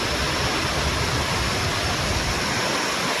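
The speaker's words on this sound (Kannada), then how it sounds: "ಈ ಚಿಕ್ಕ ಫಾರೆಸ್ಟಲ್ಲಿ ಈ ಥರ ಫಾಲ್ಸ್ ನೋಡೋದೇ ಒಂಥರ ಮಜಾ" A waterfall in a small forest near Ubud, Bali: a loud, dense, continuous roar of falling water, close by, unbroken and with no talking.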